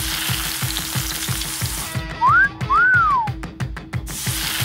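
Steak sizzling as it is pressed in a hot hair straightener, a steady frying hiss throughout, broken midway by two rising-and-falling whistled tones and a burst of sharp clicks.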